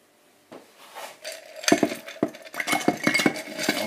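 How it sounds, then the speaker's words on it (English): Ice cubes tumble into a cocktail glass for a Sazerac, a quick cluster of close, bright clinks and knocks that rattle on in uneven bursts. "Then we're going to pop in the ice."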